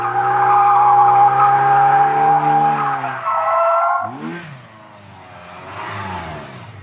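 A drifting car's tyres squeal loudly and continuously at close range, a long sustained screech that breaks off into rising engine revs and further wavering squeals as the car slides sideways.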